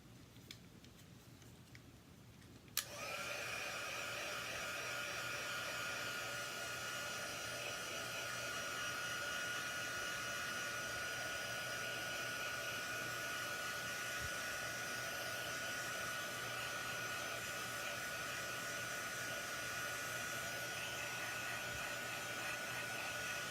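A hair dryer switches on abruptly after a few quiet seconds and blows steadily and loudly over misted card stock, a constant whooshing whine that holds to the end, without speech.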